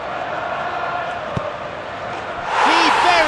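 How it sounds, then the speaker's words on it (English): Dense, roaring stadium crowd in the football game PES 2015, a steady wash of massed voices that swells louder near the end, with a single sharp thud midway and whistling, rising cheers on top. "The packed crowd behind the goal trying their best to put him off."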